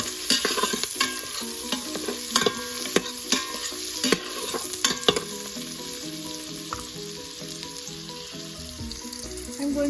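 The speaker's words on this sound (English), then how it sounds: "Give a nice stir." Pasta in sauce sizzles in a frying pan while a utensil stirs it, giving close scraping and clacking strokes over a steady frying hiss.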